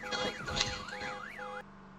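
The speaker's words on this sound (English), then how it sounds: "A vehicle alarm going off is absolutely what we want" Car alarm in the zombie survival game Vein, wailing in a rapid rising-and-falling sweep for a second or so before cutting off abruptly, leaving a low steady hum.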